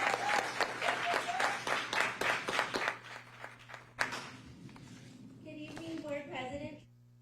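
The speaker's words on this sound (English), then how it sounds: "Big round of applause" Applause from an audience at a school board meeting, steady rapid clapping for about three seconds that tapers off, followed by murmuring voices and someone speaking.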